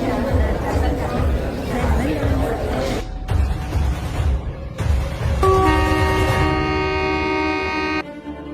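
Cartoon train running on its own with no driver, a steady rolling rumble that carries throughout, joined near the end by a sustained horn-like toot, with chatter and voices over it.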